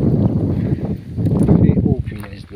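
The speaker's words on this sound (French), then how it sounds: "Et oh punaise de vent." Wind buffets a microphone outdoors in low, rumbling gusts, loud and uneven, while a person speaks over the blustery noise.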